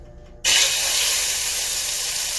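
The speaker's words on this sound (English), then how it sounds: "now that that's heated, I'm going to add my beef" Beef hits hot canola oil in a pan on high heat, bursting into a sudden loud hiss of searing that holds steady after a brief quiet start.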